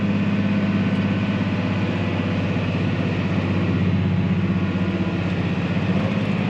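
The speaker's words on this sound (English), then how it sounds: "the revs are going to drop as we start climbing" Tractor engine hauling a load of silage on a climb, a loud, steady low drone running continuously close by with its revs sagging under the strain.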